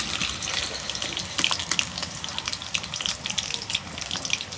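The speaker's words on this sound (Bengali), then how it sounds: "এই দেখো আমার চিকেন কি সুন্দর করে ভাজতাইছি" Chicken pakoras crackle and sputter in hot oil, a dense, steady hiss peppered with sharp pops, close and fairly loud throughout with no talking.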